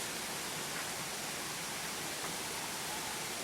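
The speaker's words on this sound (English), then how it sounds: "Just want to catch a little bit of this waterfall that starts" Waterfall in a lush Hawaiian valley along Boulder Creek, heard as a steady, dense roar of falling water that fills the whole recording without letting up.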